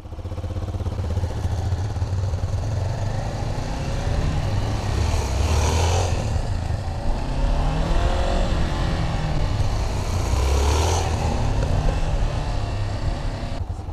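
A motorcycle revs repeatedly during wheelie practice, rising and falling in two clear surges over a steady engine drone, loud and close with nobody speaking.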